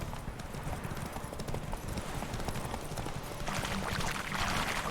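Hoofbeats of Geralt's horse Roach galloping in The Witcher 3, a steady rapid clip-clop close by with wind-like rushing growing louder toward the end.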